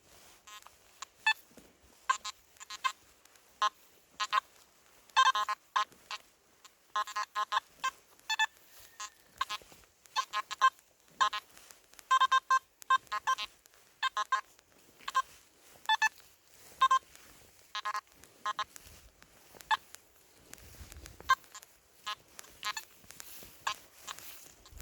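Simplex SP24 metal detector with a new coil swept over ground beside an old track wall, giving a rapid, irregular stream of short electronic beeps and tones, close and fairly loud, with no talking.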